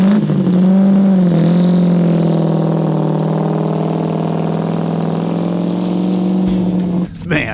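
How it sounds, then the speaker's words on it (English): A Kurtis 500S race car engine with a 1950s IndyCar character drones loud and steady on an old airstrip, holding a powerful constant note before cutting off near the end. "The Kurtis really does have sort of a 50s IndyCar feel, and this baby sounds so powerful."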